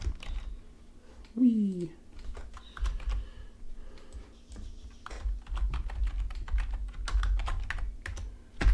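Rapid clacking of computer-keyboard typing fills the stretch in irregular bursts of keystrokes, close and fairly loud, with a brief spoken exclamation near the start.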